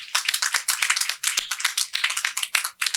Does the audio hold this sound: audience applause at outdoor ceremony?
yes